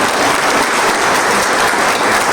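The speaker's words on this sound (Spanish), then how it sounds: "Entonces, un aplauso para él, por favor." A book-fair audience applauds a Colombian horror writer: dense, steady, loud clapping from many hands that fills the whole stretch without a break and with no voices.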